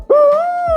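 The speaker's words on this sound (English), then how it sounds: "I like to have an owl call" A single loud, close owl hoot from a turkey-hunting owl locator call, a steady tonal note held for under a second with a sharp start and clipped end.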